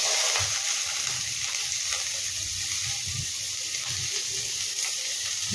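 Chopped garlic sizzles steadily in hot oil in a pan, a continuous bright frying hiss with faint stirring bumps underneath, close and fairly loud.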